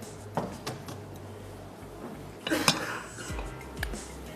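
A metal kadai is pulled out and set down in a home-style kitchen, giving a few scattered clinks and knocks followed by a louder clattering bump of cookware on a surface.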